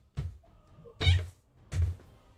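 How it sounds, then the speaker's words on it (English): A cat meows three separate times in short bursts with brief pauses between them, heard close and clear with no talk over it. "I heard that cat."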